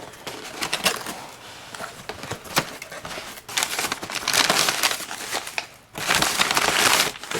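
Knife packaging crinkles and tears in bursts, with rustling, crackling stretches of plastic and cardboard handled close to the microphone, louder toward the end.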